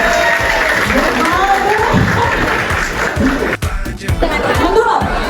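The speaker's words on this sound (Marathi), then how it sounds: "त्यांनी सगळे जोरदार टाळ्या वाजवायच्या आहेत" At an engagement ceremony, a crowd claps steadily and loudly, mixed with scattered laughter and chatter, with a short dip in the middle before the clapping resumes.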